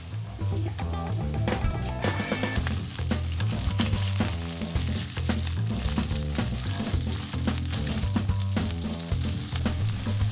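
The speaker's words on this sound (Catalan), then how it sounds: "ja sentiu que l'oli de la cassola s'ha escalfat i que ja està això fregint" Steady loud sizzling of pork rib and sausages frying in hot oil, with occasional clinks and stirring scrapes in a pot, close up and continuous.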